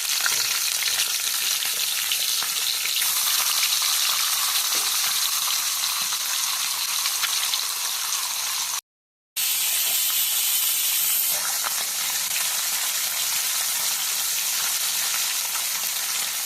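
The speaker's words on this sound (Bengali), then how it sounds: "এবার মাছের মাথা ভেজে নেওয়া হচ্ছে" Rohu fish head frying in hot mustard oil in a kadai, a loud, close, continuous hissing sizzle with crackle, interrupted by one very brief silent cut midway.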